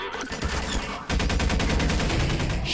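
Dense, continuous gunfire in a hallway firefight in the Half-Life 2 Episode 2 mod Exit 2, rapid automatic bursts that jump louder partway through and keep a fast, driving rhythm.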